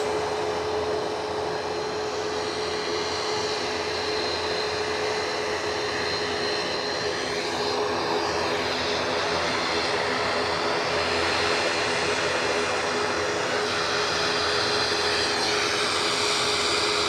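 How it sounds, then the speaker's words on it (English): A passenger plane bound for Brussels roars steadily at Edinburgh Airport, a loud continuous jet-engine rumble and whine that swells slightly midway and holds throughout. "Plane you are looking at, off to Brussels."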